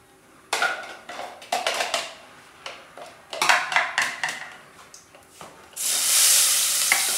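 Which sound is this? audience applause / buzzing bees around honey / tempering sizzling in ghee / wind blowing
tempering sizzling in ghee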